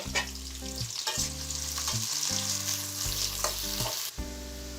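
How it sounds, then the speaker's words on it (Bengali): Sliced onion frying in a pan toward light brown: a steady sizzle with intermittent stirring scrapes, while a loud tonal hum in the background starts and stops in blocks. No talking. "এখন এই পেঁয়াজটাকে আমি হালকা বাদামি রঙে ভেজে নিচ্ছি"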